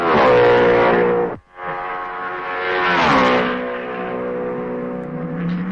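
A 1955 Formula 1 racing car engine screams loudly and steadily at the Belgian Grand Prix, dropping briefly as a gear change or pass cuts in, then rising and sustaining its high whine.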